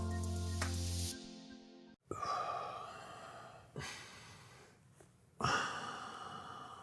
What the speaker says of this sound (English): it's impossible to not hear you just breathing super loudly